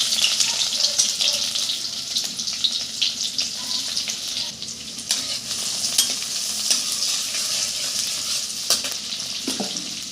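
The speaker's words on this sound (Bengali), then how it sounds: "কড়াতে 5 ফোড়ন দিয়ে দিলাম" Five-spice, onion and green chillies fry and sizzle steadily in a wok, with repeated sharp scraping and clinking of a stirring spatula throughout.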